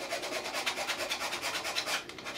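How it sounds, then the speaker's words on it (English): Rapid back-and-forth sanding strokes on a 3D printed ABS part, a close rhythmic rasping scrub of about a dozen strokes. "I'm just going to sand that off quickly,"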